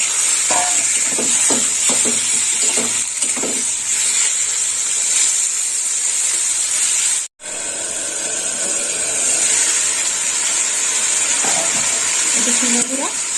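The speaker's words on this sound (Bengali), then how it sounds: "মাছটা আমি একসাথে ভেজে নেব" Prawns fry in oil with a continuous loud hiss and sizzle, broken by stirring clatter and a brief gap midway, with a voice heard faintly at times.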